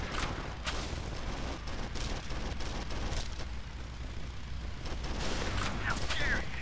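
Vehicle-mounted guns fire in the video game Hard Truck Apocalypse, a dense, loud rattle of rapid bursts that continues almost without pause.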